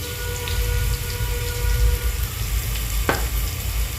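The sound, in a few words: garlic, asafoetida and turmeric frying in hot oil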